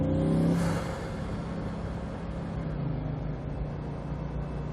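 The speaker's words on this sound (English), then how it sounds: "Just hearing those wastegates pop off behind your head here is pretty amazing." Bugatti Veyron 16.4 Grand Sport Vitesse accelerating hard from inside the cabin, a loud, steady engine roar with a brief surge at the start, then a sustained deep rumble and rush.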